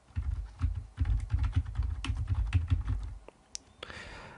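Rapid typing on a computer keyboard, a close run of crisp key clicks in quick bursts with a few louder taps near the end, heard alone in a quiet room.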